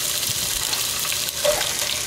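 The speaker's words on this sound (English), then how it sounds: "we're gonna add in all those lovely vegetables that we just chopped up" Chopped celery, onions and carrots hitting hot olive oil in a pan, giving a steady broadband sizzle and hiss throughout with a slight swell near the middle, close and continuous with no talking.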